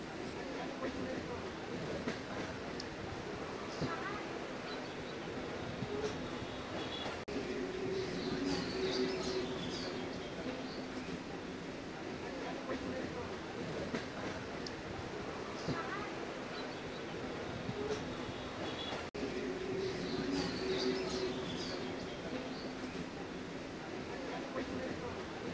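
Local commuter train running from Dumdum to Majerhat, a continuous rumbling ride with clattering wheels and intermittent squeals, steady throughout with faint voices mixed in.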